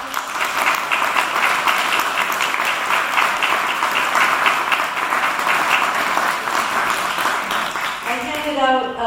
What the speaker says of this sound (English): So I want a round of applause for their presence.